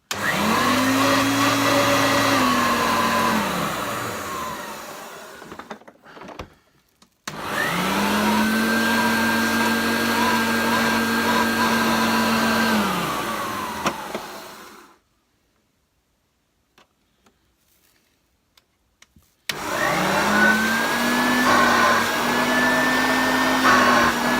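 A Hoover Turbopower UB088 upright vacuum cleaner runs loud and close with a steady whine, twice briefly cutting out and restarting, its pitch shifting as the nozzle is covered during testing.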